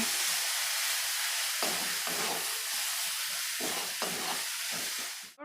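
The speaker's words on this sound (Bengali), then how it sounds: "এবার মশলাটা যাতে না নিচে লেগে যায় তার জন্য আমি একটু সামান্য একটু জল দিয়ে দিচ্ছি, দিয়ে এটাকে আবার আমি ভালো করে কষিয়ে নেব" Spice masala with a splash of water being stir-fried in a pan for a Bengali kochur loti and prawn dish, a steady broadband sizzle and steam hiss with repeated scraping stirs throughout, close and continuous.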